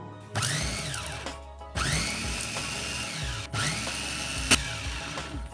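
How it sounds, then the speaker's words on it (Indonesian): A Mitochiba electric chopper grinds a mushroom and tempeh mixture, with three loud, close whirring motor bursts, each a second or two long, separated by short pauses. "dengan digiling menggunakan chopper Mitochiba, maka hasilnya juga bisa tetap lembut ya"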